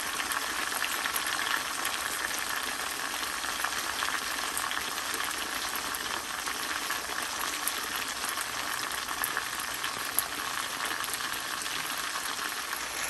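Whole chicken sautéing in a pan over medium heat, a constant close frying sizzle with fine crackling and bubbling that stays even from start to finish, no talking.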